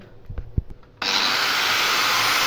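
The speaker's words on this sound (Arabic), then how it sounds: "بنقطع طبعا الماسوره 2 متر بس" A plastic water pipe for a poultry nipple drinker line is cut to a two-metre length. After a second of faint handling knocks, a loud, steady, rough cutting noise starts abruptly and runs on evenly.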